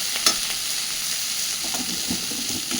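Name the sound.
stirring and frying bean mash with coriander leaves in a pan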